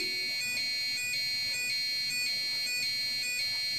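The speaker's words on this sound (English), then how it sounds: "the other wire connected to the buzzer and to ground on the Arduino" A piezo buzzer wired to an Arduino and driven by uploaded code sounds a steady, high electronic tone with faint pulsing, close and continuous over a low room hum, with no talking.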